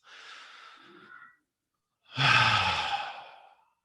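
A person takes a deep breath in and then lets it out in a longer, louder breath, close and alone, with a short silence between.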